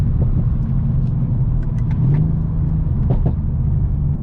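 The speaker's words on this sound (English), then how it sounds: "Whenever the exhaust valves are open, this car does not sound bad whatsoever." A deep, steady exhaust rumble from a 2017 Mercedes-AMG C63S Coupe with stock exhaust idling close by, low and constant throughout with slight fluctuations and no voices.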